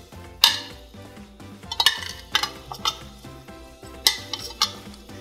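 Pan-fried pork meatballs (bola-bola) going into soup broth in a pot, heard as clinks of a spoon and plate against the cookware, with soft splashes and stirring sounds spread over several seconds.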